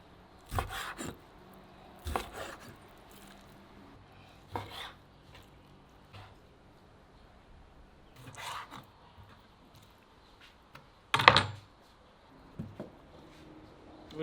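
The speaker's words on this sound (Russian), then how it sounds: "Нарезаем кубиком, средним кубиком" A knife dices bull's heart into medium cubes on a board, faint scattered chops and knocks with long quiet gaps between them.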